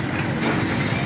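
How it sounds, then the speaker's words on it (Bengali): A train runs past near Sripur railway station in Gazipur, a steady broadband rumble and rattle of wagons close by, with no talk during the passage. "ট্রেন যাইতেছে।"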